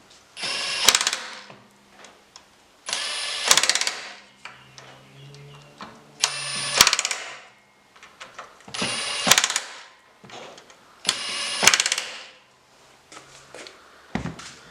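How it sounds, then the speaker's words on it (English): An impact wrench drives go-kart clutch bolts during an engine clutch replacement: five loud, close bursts of rapid hammering, each about a second long and separated by quiet pauses, with no talk. "we've got our trusty rattle gun, and we're just going to screw them in till they stop"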